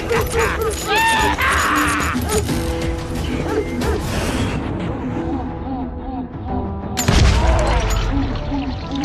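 Gunfire in the Western shooter Call of Juarez: Gunslinger, a dense fusillade of shots and booms running throughout, with a heavier blast near the end, mixed with game music and voices shouting.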